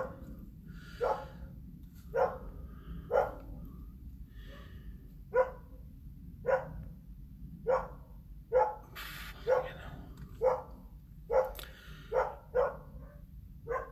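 A dog barks repeatedly in a steady series of about a dozen sharp, moderately close barks spread across the stretch, over a low background rumble with no talking.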